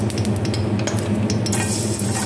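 Chopped garlic sizzles in a small amount of hot cooking oil in a pan, a steady close frying hiss broken by the scrape and clink of a utensil stirring.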